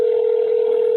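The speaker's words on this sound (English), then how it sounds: "call again till Mama Bear pick up." A steady telephone dial tone holds unbroken and loud for the full second, with no ringing pulses or voices over it while a call is being placed repeatedly.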